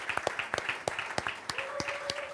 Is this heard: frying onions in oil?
no